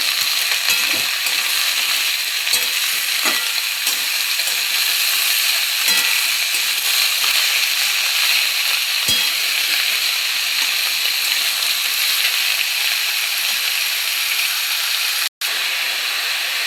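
Food frying in a pan for a sesame khero dish, giving a loud, unbroken hiss of sizzling and steam for the whole stretch, with a few faint knocks of stirring and a brief dropout near the end.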